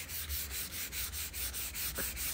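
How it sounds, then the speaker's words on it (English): Sandpaper rubs back and forth over a painted wooden door panel in a steady rhythm of about nine close, even strokes, with no talking. "So that's what this sanding is all about, just to figure out where them bits are and work them down."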